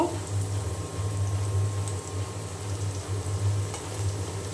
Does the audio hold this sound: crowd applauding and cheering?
no